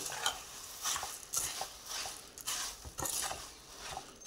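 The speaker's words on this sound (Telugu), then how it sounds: "బొంగు పేలాలు వేసుకొని బాగా కలుపుకోవాలండి." A spoon stirs puffed rice through hot jaggery syrup in a pan, giving steady scraping and rustling strokes in an even rhythm with a soft sizzle beneath, close and moderately loud.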